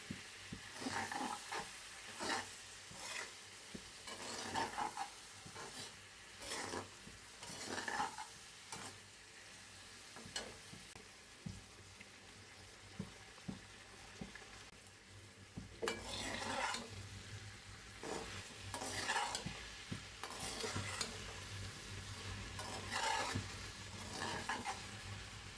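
Pointed gourd and potato pieces for a Padma hilsa curry sizzle in oil while a spoon stirs them in a pan. Scraping strokes come in bursts over a steady frying hiss, moderately loud and close, with no talk.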